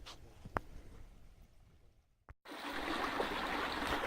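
Creek water swollen with runoff after a full day of heavy rain rushes in a steady, broad wash, quieter at first, then growing loud and close for the second half after a brief near-silent gap.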